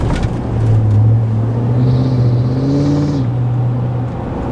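Steady low engine drone fills the cab of a tuned pickup truck with a 10-speed transmission, a loud continuous hum with a slight rise and dip in pitch while cruising, a faint higher whine over it, and no talking.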